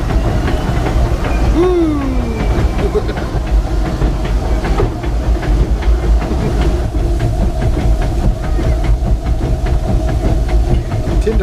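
Disneyland Railroad train ride heard from aboard a passenger car, with a steady rumbling roll and hiss throughout, a brief whistle-like tone early on, and occasional voices and a cheer over the noise.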